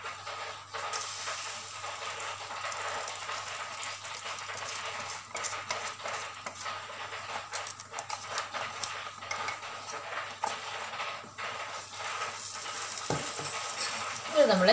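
Egg, sugar and cardamom mixture stirred in a pan for unnakai filling, with a steady scraping and sizzling texture and light spoon clinks running throughout.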